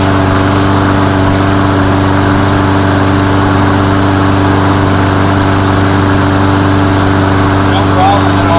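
A lawnmower engine running loud and close at a steady idle, its even mechanical hum and buzz holding constant without a break.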